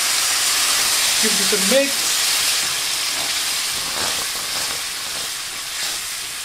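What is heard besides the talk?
stock hissing and steaming as it deglazes a hot pan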